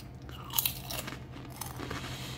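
Bacon-flavored Baconzitos snack chips crunched in the mouth, a quiet close bite followed by soft chewing crackles over a low background hum.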